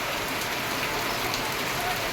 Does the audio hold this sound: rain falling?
yes